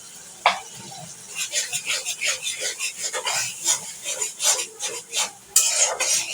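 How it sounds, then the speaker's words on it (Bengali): Ground chili and coriander spices are stirred and fried in a pan, with rapid repeated scraping strokes and a soft sizzle, close and fairly loud, with a few sharp metallic knocks of the utensil against the pan. "মশলাটাকে ভালো করে কষিয়ে নেব যাতে কাঁচা গন্ধ চলে যায়।"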